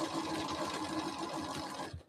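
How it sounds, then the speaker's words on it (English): A sewing machine running steadily as it stitches through fabric, a close, continuous whirring hum that stops abruptly at the end. "I'm only sewing through the fabric."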